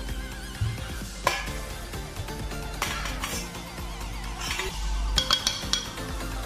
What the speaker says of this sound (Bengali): আলুটা আমি ভালো করে মাখিয়ে নিলাম